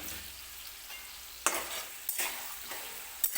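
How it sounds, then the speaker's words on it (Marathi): Urad dal frying in hot oil for lemon rice, a soft steady sizzle with a few sharp stirring scrapes, close and alone. "इथं मी उडदाची डाळ घेतलेली आहे, ती सुद्धा तेलामध्ये टाकून घेणार आहे"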